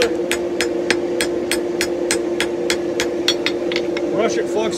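Steady, evenly spaced hammer blows ring out on a wrought iron billet being forge welded for a San mai knife, about a dozen strikes in rhythm over a constant droning forge blower hum.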